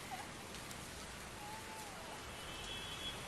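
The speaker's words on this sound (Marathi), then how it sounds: "अधूनमधून हा मुसळधार पाऊस सुरूच आहे" Heavy early-morning rain falls in Mumbai as a faint, even hiss of drops on surfaces, steady for a few seconds with no voices.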